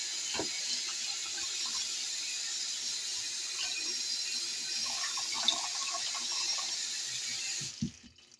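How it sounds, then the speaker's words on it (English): Running tap water pours steadily over raw tripe in a kitchen sink, a continuous close hiss and splash lasting several seconds before cutting off near the end. "So I'm going to wash it off with a little vinegar."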